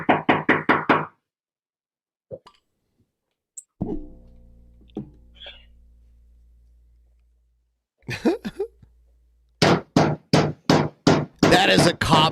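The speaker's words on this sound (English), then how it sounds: "People are going to keep knocking at my fucking door." Loud, sharp knocking on a door comes in bursts of rapid raps, with a quick cluster at the start and a longer, forceful series near the end, separated by near silence and a faint low hum.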